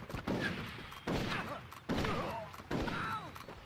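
Gunfire in the video game Red Dead Revolver arrives as four heavy shots about a second apart, each followed by a whooshing, ringing tail that fills the gaps.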